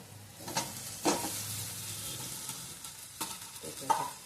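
Mashed potato goes into a hot pan and is stirred, giving a soft sizzle with scattered scraping strokes of the spoon at close range.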